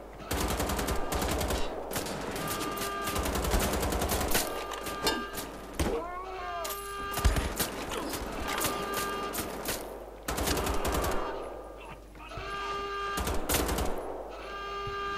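Sustained automatic gunfire and rapid shot bursts from the Wolfenstein: The Old Blood shooter game, loud and dense across most of the stretch, dropping out briefly before resuming, with game effects layered in.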